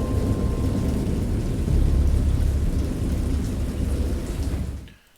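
Heavy rain pours steadily through a deep, rolling thunderstorm rumble, loud and continuous, before fading out abruptly at the end.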